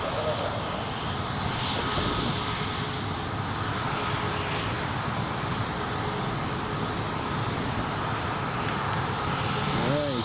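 Emirates airliner at runway 07 of Newcastle Airport, a steady broad engine roar holding at an even level throughout, with a person talking faintly over it.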